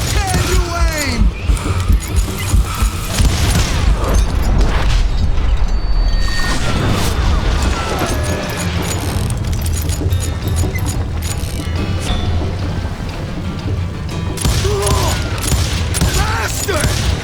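Gunfire in the Western shooter Call of Juarez Gunslinger, with loud, dense volleys of shots and booms running through the whole stretch over a busy game mix, and voices mixed in.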